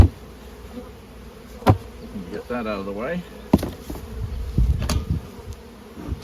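Honey bees buzz steadily at a busy hive during a brood chamber inspection, a dense insect drone running throughout beneath brief spoken remarks and a few sharp knocks of hive equipment.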